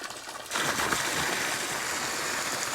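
Water pumped from a farm well rushes with force into a fish tank, starting abruptly after a quiet moment and then pouring in a steady, loud, close splashing gush.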